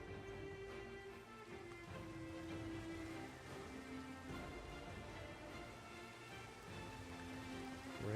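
Steady rainfall in a Minecraft world, a soft continuous patter with a low, even hiss that holds throughout with no voices over it.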